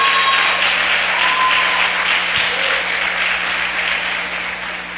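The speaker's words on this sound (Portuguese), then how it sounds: "Dá uma salvinha de palmas a Jesus aí." A church congregation at a conference service claps together in a steady, dense wash of applause that holds for about five seconds and fades slightly toward the end.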